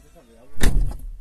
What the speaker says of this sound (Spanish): Vamos a ver si, si se enciende al abrir la puerta.